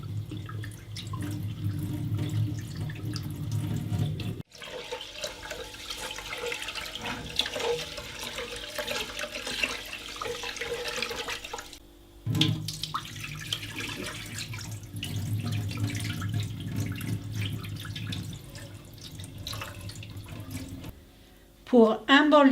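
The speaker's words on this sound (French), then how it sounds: "Je jette la première eau et je recommence une seconde fois." Tap water running into a bowl of basmati rice, then drained and refilled, steady splashing broken by brief pauses, with drips and a gurgle near the end; a voice speaks over parts of it.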